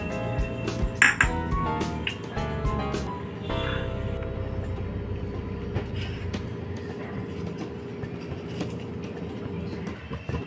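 Whole coriander seeds, cloves, black pepper and green cardamom are tipped into a pan on a gas stove. A flurry of sharp clinks and rattles comes first and then fades into a quieter hum.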